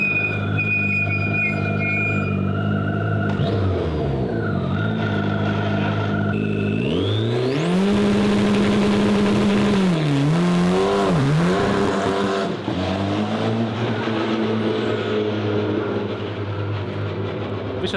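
A Formula 4 race car on slick tyres, loud and close, its engine rising and falling through gear changes and hard acceleration, holding a steady high roar through the later seconds.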